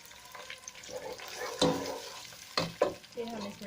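Yogurt hitting hot kofta masala in a pan, soft sizzling punctuated by a few sharp splashy bursts and scrapes, fairly quiet and close with no talk.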